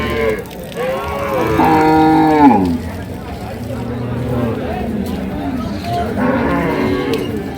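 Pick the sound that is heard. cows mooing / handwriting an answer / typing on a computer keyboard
cows mooing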